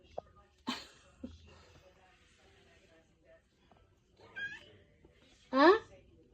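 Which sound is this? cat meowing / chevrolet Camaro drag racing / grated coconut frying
cat meowing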